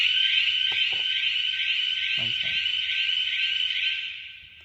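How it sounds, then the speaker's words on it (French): A basketball game clock buzzer sounds the end of a quarter, one long steady electronic tone held for about four seconds before cutting off, with a few faint knocks beneath it. "Donc le buzzer va retentir."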